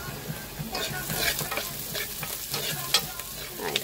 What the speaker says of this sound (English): I'm going to let it brown a little bit because that's where I think the best flavor comes from, when you let the onion and the garlic brown a little bit